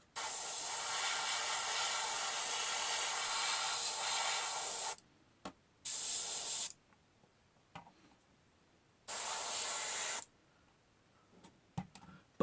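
An airbrush sprays paint onto a Tamiya F-4B Phantom scale model in three steady hissing bursts: a long five-second pass, then two shorter ones of about a second each, separated by quiet pauses with faint clicks.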